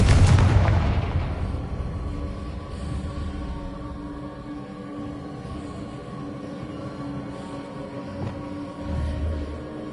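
The Confringo fire spell in Hogwarts Legacy goes off as a loud, sudden blast, followed by a long rumbling decay and a lingering low ambient drone.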